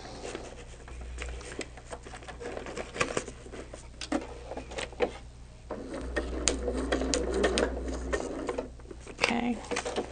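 Sewing machine stitching through paper, run in short bursts with frequent stops to readjust as the stitching gets harder; rapid mechanical patter, moderately loud, with a person talking throughout.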